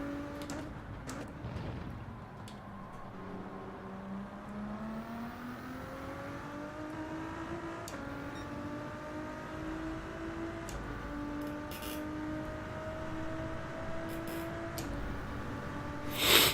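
Race car engine in Gran Turismo 7 revs hard in first gear and is shifted up to second: a harmonic engine tone climbs steadily in pitch, with scattered clicks and a sharp burst at the end.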